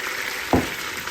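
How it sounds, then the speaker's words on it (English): Meat juice poured over searing ribs in a hot pan, a steady sizzle with a brief louder splash of liquid hitting the pan midway. "the juice that we took out, we're gonna pour a little bit of it over"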